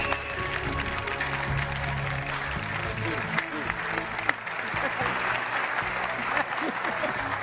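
A studio audience on the Turkish game show Kelime Oyunu breaks into loud, sustained applause that holds steady for the whole stretch, with faint voices and a low tonal hum running beneath.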